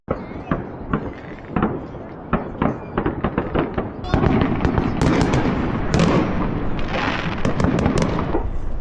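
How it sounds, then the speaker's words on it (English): Fireworks go off in a park in China after dark, starting as rapid separate bangs and crackles, then thickening into a dense, loud, continuous barrage of pops and bursts from all around. "there are literally fireworks in every direction around me, and it's been constant since the sun's gone down"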